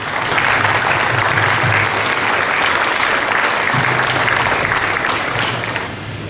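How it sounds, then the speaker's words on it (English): Steady, dense applause from a large audience at a commencement ceremony for graduates, sustained and loud throughout before easing slightly at the end. "please join me in a hearty round of applause for our graduates"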